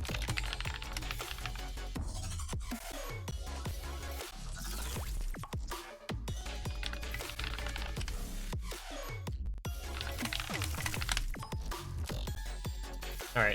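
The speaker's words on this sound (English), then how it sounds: "We'll mute the stream audio so you get the keyboard ASMR from T1G" Continuous rapid keyboard typing from T1G during a USC 2020 semifinal match between Virginia and Florida, dense clattering keystrokes running steadily throughout at moderate volume with no talk over them.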